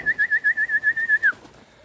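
A homing pigeon calls close by in its loft with a single pulsing, trilling note lasting just over a second, clear and alone.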